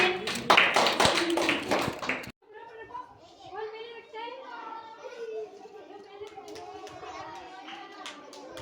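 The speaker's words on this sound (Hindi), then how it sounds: "ताली बजाइए।" Children clapping their hands together in a short burst, loud and dense for about two seconds, then giving way to children's chatter and voices in a classroom setting.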